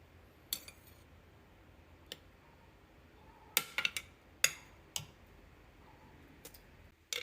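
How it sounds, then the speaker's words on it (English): Metal utensil scraping and tapping inside a glass jar of fermenting vegetables, lifting the yeast layer off the brine, with sparse sharp clicks and clinks spaced irregularly against a quiet background. "So I'm just going to do my best to wipe, scrape, and scoop out the contents."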